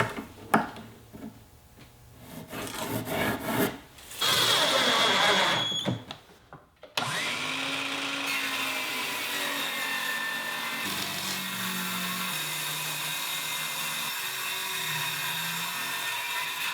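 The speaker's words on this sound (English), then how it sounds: "So I'm going to get started right now by trimming this cabinet by 1/4 of an inch." A power tool trims a quarter inch off an old cabinet being turned into a table saw outfeed table, giving a loud, steady buzzing whine for several seconds, a short pause, then a long, continuous cutting drone with shifting pitch.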